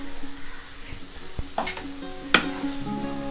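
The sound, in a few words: egg stirred and frying with radish in pan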